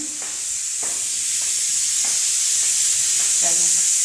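Food sizzles and is stirred in a pan while a home cook prepares vegetables, a steady frying hiss with a few soft scraping strokes and faint clatter near the end.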